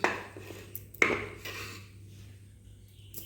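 A knife chops papaya and okra on a board, giving a few sharp, close knocks with one loud strike, then quieter scraping and a pause, with no talk.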